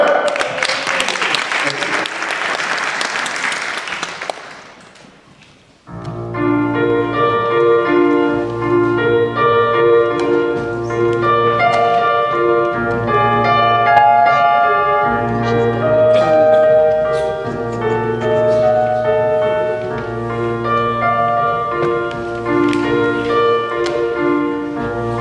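A church concert audience applauds and cheers loudly for about five seconds after the singer is introduced, then the clapping fades out and music with sustained tones takes over.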